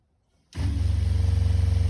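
An electric RV water pump switches on abruptly and runs at a steady rhythmic pulse while building line pressure, its close, loud hum starting from silence.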